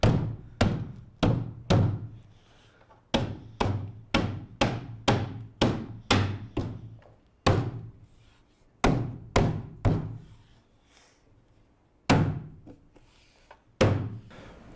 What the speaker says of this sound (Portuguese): talvez você tenha que dar uma batidinha aqui ou com a mão ou com um martelinho de borracha